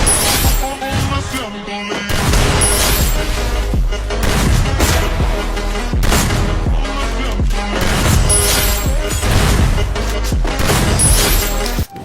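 Gunfire and headshots from the video game Free Fire come as loud, dense, rapid bursts of shots and booms that run almost without pause.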